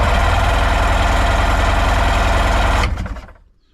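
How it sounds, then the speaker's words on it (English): Starter motor on a Sea-Doo GS jet ski cranks the engine over, a loud, steady, rapidly pulsing mechanical churn that holds for almost three seconds and then stops abruptly, leaving a short fading tail. "if I bridge over the solenoid itself, you'll see that the motor turns over"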